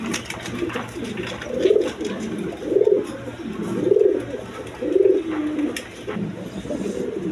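Satin pigeons coo in a repeated, rolling pattern, about five throaty phrases in steady rhythm, close and clear over a faint hum, with no talk.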